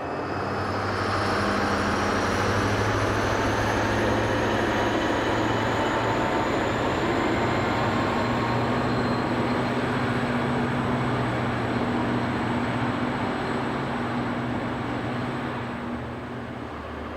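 Class 218 diesel locomotive hauling a passenger train in Germany, a loud continuous rumble and engine drone with steady low hum, rising through the passage and easing off toward the end.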